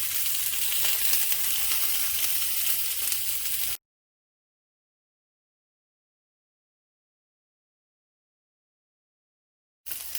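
Strips of vegan bacon made from banana peel fry in a pan with a steady, close hiss of sizzling for a few seconds, then cut to silence before the frying briefly returns.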